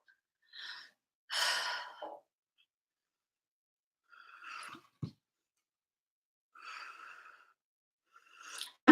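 A person breathes audibly close to the microphone during a quiet tarot talk session, with several separate heavy sighs and gasping inhales spaced by silence.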